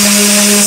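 Palm sander buffing a cabinet door at an angled corner, a steady close electric hum with a bright, even whine running unbroken throughout.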